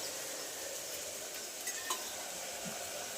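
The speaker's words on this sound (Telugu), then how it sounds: "ముందుగా ఆయిల్ వేసి ఆనియన్, పచ్చిమిరపకాయ, టమాటా కూడా కలిపి కొంచెం గోల్డెన్ కలర్లో వచ్చే రకంగా ఫ్రై చేయాలి" Onion, green chilli and tomato frying in oil, a soft continuous hiss with a few faint clinks of a ladle against the pan.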